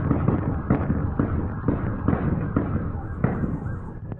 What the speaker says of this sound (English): What sounds like fireworks is a firefight.